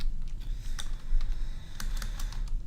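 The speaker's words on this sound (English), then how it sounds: "I'm just going to start typing code." Typing code on a computer keyboard during a livestream, with a steady run of light, uneven key clicks and a few sharper taps over a low background hum, close to the microphone and with no talking.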